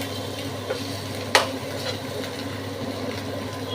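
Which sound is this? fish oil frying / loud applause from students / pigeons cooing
fish oil frying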